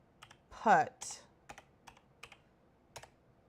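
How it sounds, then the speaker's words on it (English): Scattered keystrokes tap on a malfunctioning computer keyboard that doubles its letters, a few sharp clicks and one louder burst of clatter spaced out irregularly, close and fairly quiet. "My keyboard is driving me nuts."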